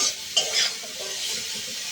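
Drumstick curry with turmeric is stirred and sautéed in a pan, giving a close scraping stir over a steady hiss of frying, with a couple of brief utensil clinks.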